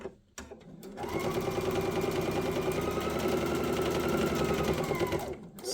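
A sewing machine stitching a fabric book wrap runs in one steady, continuous whirring burst for about five seconds, close and clear, after a couple of brief clicks at the start.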